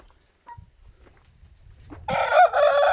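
A Hint rooster crows loudly nearby, a harsh drawn-out call breaking in after quiet rustling and faint background noises.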